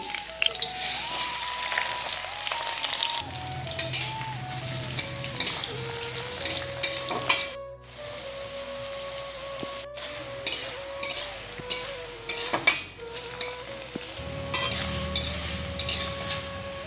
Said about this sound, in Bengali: তেলের মধ্যে এগুলো দিয়ে ফুটিয়ে নেব